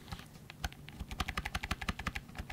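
Quiet, light keystrokes on a small computer keyboard, scattered at first, then a quicker run of even taps before trailing off.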